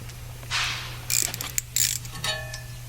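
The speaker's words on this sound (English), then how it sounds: "Put it in with a 1/4-inch drive ratchet, and just good and snug." A 1/4-inch drive ratchet snugs an 8mm bolt on a Land Rover LR hub bearing assembly, giving a few short bursts of close metallic clicking over a steady low hum.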